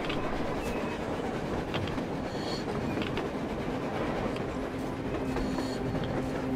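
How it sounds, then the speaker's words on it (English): A train passes on the surface in the Metro Exodus video game, a steady loud rumble with clattering wheels and faint metallic squeals throughout, with no voices. "A train! A damn train on the surface!"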